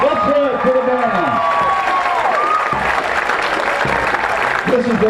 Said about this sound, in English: Please give them a rousing cheer from Plattsburgh. Come on, let's hear it for the band.